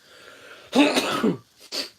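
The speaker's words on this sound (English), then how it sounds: "Sorry, I had to sneeze there." A close, forceful sneeze-like burst followed by a shorter second expulsion, with quiet breathing before it.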